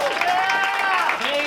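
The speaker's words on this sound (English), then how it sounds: "Let's give a round of applause for them, guys." Audience at a campus open mic show clapping for guests, a dense, loud, continuous burst of applause with cheering voices mixed in.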